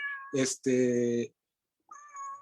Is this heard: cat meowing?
yes